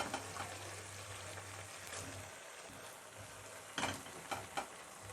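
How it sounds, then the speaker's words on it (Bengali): Cabbage and potatoes fry quietly in a pan with pork, a low steady sizzle broken by a few sharp scraping clacks of a spoon stirring near the end, with no voices. "বাঁধাকপি আর আলুটা এখানে আমি দিয়ে দিলাম, ভালো করে নাড়িয়ে নেব"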